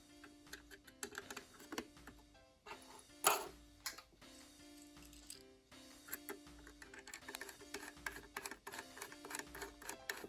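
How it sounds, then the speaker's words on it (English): Small screws are driven back into the body of a Rivarossi AC-10 model locomotive during a restoration, producing quiet, irregular clicks and ticks with some light tapping, close and faint with no talk. "Then you just simply put these screws back in."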